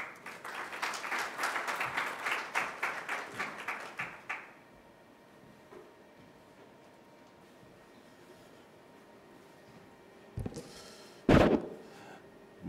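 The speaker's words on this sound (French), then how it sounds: "je vous invite à accueillir chaleureusement sous vos applaudissements" Audience applause greets a moderator being welcomed at a Benin and Côte d'Ivoire industrialisation forum, a dense burst of clapping lasting about four seconds before fading into quiet room tone, followed later by a couple of brief knocks and handling noises.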